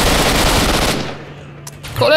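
Automatic weapon fire from the video game S.T.A.L.K.E.R. Shadow of Chernobyl, a loud sustained burst of rapid shots that breaks off, followed by a couple of isolated cracks and a final resumption of firing.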